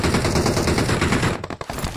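Automatic gunfire in the video game PUBG Mobile pours out as a dense, loud, continuous rattle. It breaks off partway through, and a few scattered shots follow.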